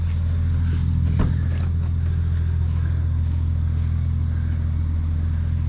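A Ford Kuga van's engine idles nearby with a steady, loud low rumble and one brief knock partway through.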